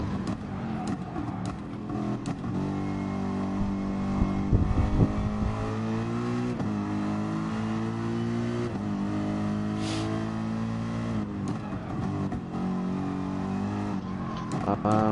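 GR3 race car engine in Gran Turismo Sport, revving and droning loudly through gear changes with rising and falling pitch, under people chatting.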